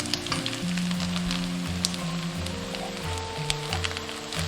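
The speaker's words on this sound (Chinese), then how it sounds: "你们就直接切好，裹上鸡蛋液就可以炸了。 一面金黄就可以翻面了。" Rice cake slices coated in beaten egg frying in peanut oil, giving a steady sizzle and crackle that holds for several seconds, close and moderately loud, with tonal background music running alongside and no voices.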